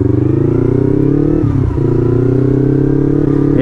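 A Yamaha MT motorcycle fitted with a big, long silencer accelerates with a loud, steady engine drone, dipping briefly mid-way before the revs climb again smoothly.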